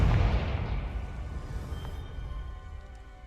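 A Confringo fire spell bursts in Hogwarts Legacy, one sharp explosive blast at the start that fades into a long ringing, rumbling decay with faint tonal shimmer.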